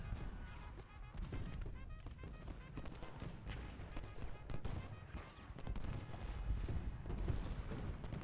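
Massed musket fire crackles across a Civil War battlefield in Ultimate General Gettysburg, a dense, continuous rattle of distant shots with no clear pauses.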